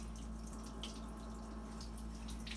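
Scrubbed eggs are rinsed under running tap water, a faint, steady trickle with light drips and splashes, close by and without talk.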